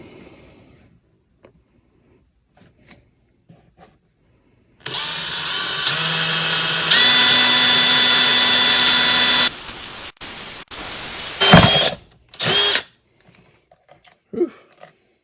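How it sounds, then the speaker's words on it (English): A power drill bores a hole while a Noveske QD sling mount is fitted to a Beretta 1301 Light shotgun: a loud continuous whine runs for several seconds, shifts pitch midway, then breaks into short bursts before quiet handling noises. "I'm gonna try to even it up here and drill a hole through here."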